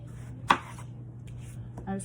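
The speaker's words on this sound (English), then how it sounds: "I just cut the tops off." A knife slices the top off a sweet onion on a board, giving one sharp close cut and a fainter follow-up, over a low steady background hum.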